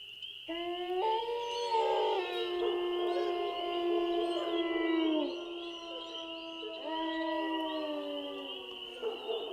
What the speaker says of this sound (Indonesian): Kali ini sesekali bunyi lolongan anjing terdengar di sekitarku.